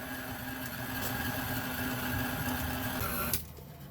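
A stand mixer kneads bread dough, its motor a steady, fairly loud mechanical whir with a constant hum running close by for over three seconds before it abruptly stops, leaving a quieter background.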